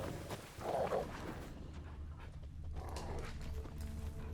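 In The Witcher 3, a dog gives a short bark or growl near the start over steady game ambience and low rumble, then things settle into quieter background noise.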